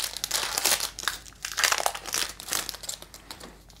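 A Pokémon Shining Fates trading card booster pack wrapper is crinkled and torn open, close-up foil crackling in repeated bursts for a few seconds with no talking.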